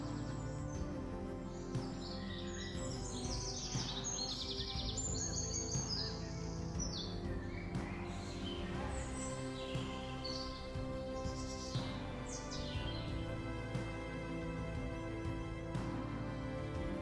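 Tropical birds call in Australian rainforest, a dense layering of overlapping chirps, whistles and trills that continues steadily through the whole stretch with no voices.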